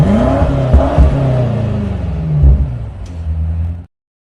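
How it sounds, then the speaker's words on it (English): A brand-new BMW M8 Competition's engine roars loudly and close, revving up with rumbling, throaty pulses and a rising growl before cutting off abruptly. "Driving out in a brand new M8"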